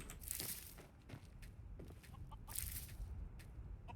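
A chicken in the video game Skyrim gives soft, repeated clucks amid a busy farm ambience with footstep-like scuffs, moderately near and fairly quiet.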